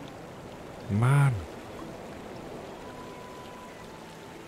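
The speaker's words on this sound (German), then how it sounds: "Sieht ein bisschen komisch aus, der Wasserfall, ne?" A waterfall and river in Medieval Dynasty, a constant soft rushing of flowing water in the background, with a man's short spoken word over it near the start.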